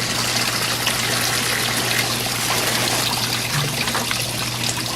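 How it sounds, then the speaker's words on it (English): Liquid poured into a bucket and dribbling down its side, a steady close trickle and splash over a constant low hum from start to end. "Pour it all in there. You're dribbling it all down the side."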